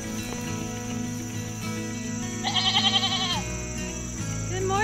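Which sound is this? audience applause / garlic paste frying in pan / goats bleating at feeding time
goats bleating at feeding time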